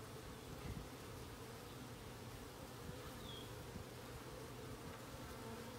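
Honey bees in a walk-away split hive hum as a steady, dense buzz that stays level throughout, with no voices over it.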